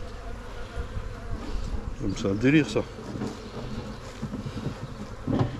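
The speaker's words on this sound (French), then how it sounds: "Non, c'est une abeille." A honeybee buzzes around beehives outdoors, its drone wavering as it passes close and drifts off, with people talking over it throughout.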